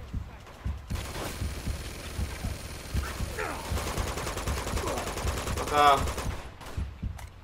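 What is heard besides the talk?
gunfire in the video game Uncharted 2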